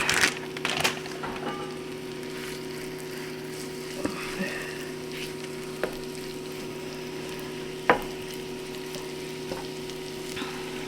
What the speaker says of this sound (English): Let's go ahead and toss our meat right in there.